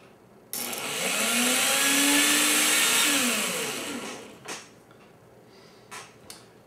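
Electric motor run on 12 volts through a relay, switching on abruptly into a loud whirring whine that rises and falls in pitch for about four seconds, then cuts off, leaving faint clicks.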